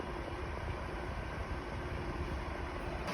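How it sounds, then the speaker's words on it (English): A Ryobi 4-inch clip fan on low blows directly toward the microphone, running quietly with an even, airy hiss and faint low rumble, constant throughout without any talking. "This is the sound of the fan on low"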